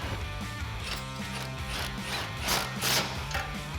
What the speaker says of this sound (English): Go ahead and grab your 10mm socket and tighten it down.